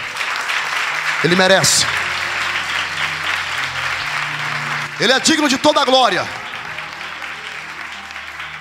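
A church congregation applauds through a steady wash of clapping while a preacher speaks loudly over it with enthusiasm. The clapping swells again toward the middle, then settles.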